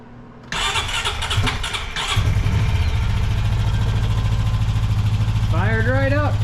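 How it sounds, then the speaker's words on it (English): Turbocharged Honda Pioneer 500 side-by-side with a new colder spark plug cranks briefly on a cold start, fires and settles into a loud, steady close idle, and a voice briefly speaks near the end. "let's see how this sounds on a cold engine startup with the new plug"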